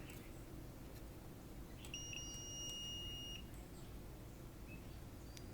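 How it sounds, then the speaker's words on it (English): A multimeter on diode test gives a steady electronic beep for over a second, high and thin, over a constant background hiss. "it beeps for a long time when you apply the leads"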